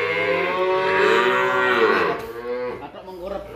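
A young male Limousin cross calf moos in one long, loud, drawn-out call close by, followed by a shorter, rougher bellow, with no talking.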